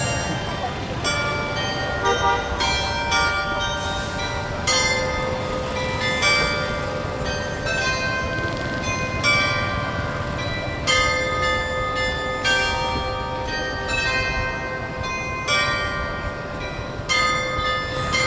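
Church bells ringing in Ho Chi Minh City from a church still under construction, a steady run of bright, overlapping metallic strikes sounding over busy street noise for about eighteen seconds, with some voices in the mix.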